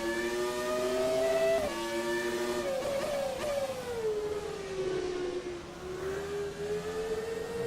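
An ASR Williams FW16 Formula 1 car in a racing video game, its engine screaming continuously at high revs, pitch dropping on downshifts and rising again while it brakes and accelerates through corners, loud and close.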